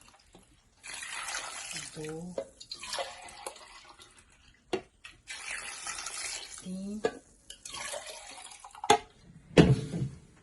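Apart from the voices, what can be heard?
water poured into a pot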